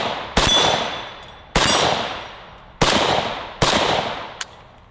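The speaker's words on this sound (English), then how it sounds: "empty out this magazine, and then we'll do a couple more things with each of these guns" Four sharp, loud AK-74 rifle shots fired at steel targets outdoors, spaced about a second apart, each with a long ringing decay and echo, plus a faint metallic ping of a hit near the end.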